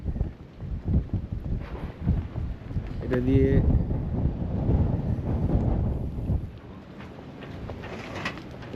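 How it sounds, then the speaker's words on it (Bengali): Strong wind buffets the microphone on a seaside boardwalk near charter yachts, roaring in loud, uneven gusts. A person speaks briefly and a short bird call cuts through partway. "প্রচণ্ড হাওয়া দিচ্ছে আসলে,"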